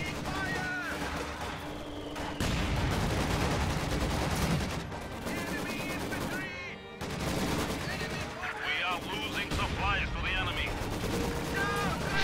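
Maxim machine guns and mortars firing in a multiplayer real-time strategy battle, with dense, continuous bursts of gunfire and booming shots layered loudly throughout under game music and effects.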